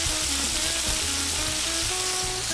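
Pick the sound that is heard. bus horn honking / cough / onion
onion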